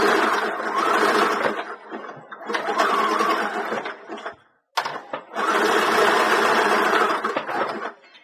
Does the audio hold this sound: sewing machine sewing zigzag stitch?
yes